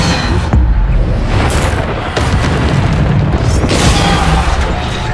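A Bombarda spell explosion in the Hogwarts Legacy video game, a loud, dense, continuous booming blast with heavy low rumble and crackling bursts layered throughout.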